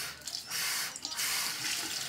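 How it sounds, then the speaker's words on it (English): Water running from a bathroom tap while a dirty makeup brush is washed, a steady splashing flow that cuts out briefly and starts again, close and fairly loud. "I'm gonna wash my brush"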